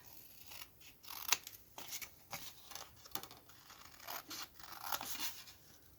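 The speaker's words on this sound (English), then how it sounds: "Trim off the excess." Scissors trim excess paper for a Peter Rabbit themed tag accordion booklet, giving a series of quiet, crisp snips and slicing rustles with one sharper cut near the start, close up and without any talk.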